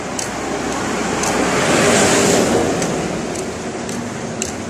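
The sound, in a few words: trucks passing on road at dawn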